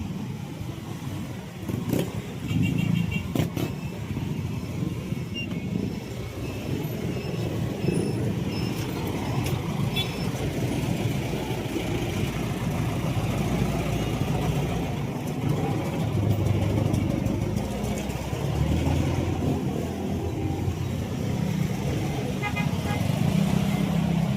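Dense night street traffic in Marikina near a market, with a continuous rumble of car and bus engines, occasional revving and short horn toots, and faint voices in the background.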